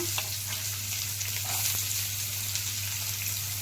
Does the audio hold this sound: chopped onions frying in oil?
yes